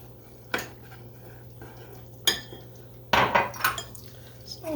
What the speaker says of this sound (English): So we're going to just stir this together, and this is going to make a thin batter